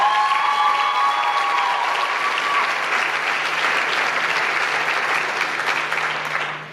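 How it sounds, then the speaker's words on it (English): Audience at a high school scholarship and academic awards night clapping in a sustained round of applause, dense and steady from a full room, tapering slightly near the end. "I think they all deserve a round of applause."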